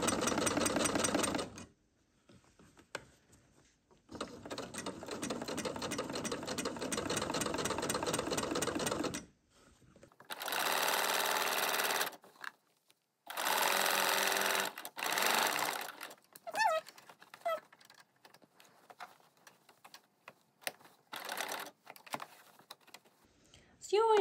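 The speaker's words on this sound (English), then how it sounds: "And now you just start sewing again." A sewing machine stitches shirred fabric in long bursts of rapid mechanical chatter broken by short pauses, then quicker intermittent runs and stops, close and loud.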